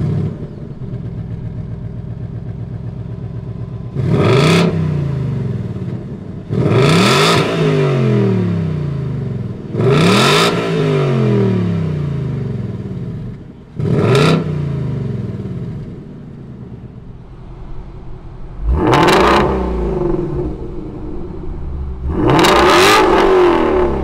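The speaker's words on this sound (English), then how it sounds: "Let's fire these Mustangs up." A 2019 Ford Mustang GT Performance Pack Level 2 and a Shelby GT350 start up and rev, loud close V8 blips rising and falling in about six sharp bursts over a rumbling idle, with no voices.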